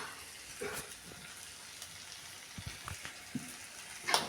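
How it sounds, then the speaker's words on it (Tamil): Okra sautés in oil with a faint, quiet sizzle, broken by a few soft taps and scrapes of a spatula, near and low in level, with no voices. "வெண்டைக்காய் வதக்கிடணும்"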